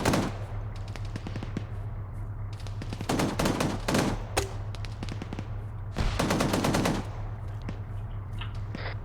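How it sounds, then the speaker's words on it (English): Heavy .50-caliber machine gun fire in the ArmA 3 military video game, rapid bursts of loud shots that come in repeated clusters over a constant low engine drone. "There's fucking 50 is shooting over your head."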